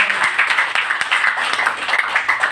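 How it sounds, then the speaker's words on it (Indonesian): An audience at an Indonesian motivational talk applauds, giving a steady, dense round of clapping that runs loud and continuous throughout. "Tepuk tangan buat Bunda Titin Listina."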